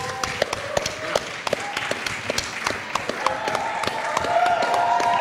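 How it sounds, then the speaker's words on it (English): An audience at a Malaysia Social Media Week session claps for a speaker in scattered sharp taps that thicken into steadier applause toward the end, with some background voices. "a round of applause for Jason Low"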